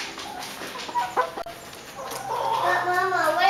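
A chicken clucks indoors in a home, its irregular calls growing louder and more continuous toward the end, with people talking nearby.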